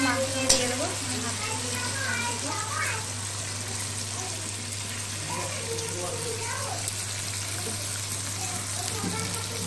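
Chicken meat is added to spice masala already frying in oil in a pan for kabuli chicken, a continuous sizzle beneath a talking voice with a steady low hum throughout.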